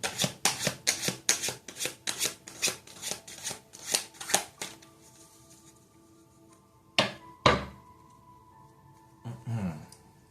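A tarot card deck is shuffled in a rapid run of crisp, close riffling bursts for several seconds, then a pause with faint tones before a couple of sharper card slaps near the end.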